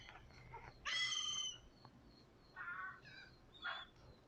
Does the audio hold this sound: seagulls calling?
yes